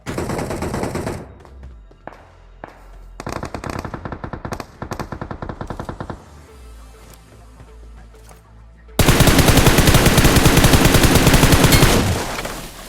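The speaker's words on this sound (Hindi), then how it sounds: "उसी वक्त यहाँ पे दूर पे गोली चलती है" Scattered bursts of rapid gunfire crackle at a distance in the video game BGMI, then a loud, sustained burst of automatic fire erupts and abruptly stops.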